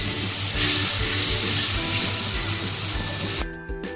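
Prawns being added to a frying pan while cooking prawns with pumpkin, giving a loud, steady hiss of oil that continues throughout and softens briefly near the end.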